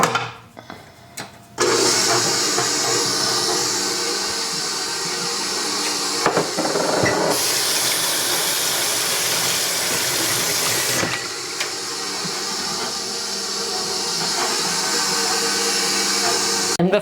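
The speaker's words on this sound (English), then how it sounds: "so I'm just going to toss it into my mixer. And we're going to lightly mix this up." A stand mixer runs steadily, blending cold cubed butter into flour for cherry pie dough, a loud continuous whir with brief changes in tone and clatter, no talk over it.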